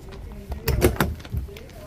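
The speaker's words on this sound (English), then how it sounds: "Nice thick baggage doors, dual slam latches." Thick baggage door with dual slam latches on a Rockwood 244SWS fifth wheel RV, a couple of close latch clunks and rattles in quick succession, with a voice speaking faintly around them.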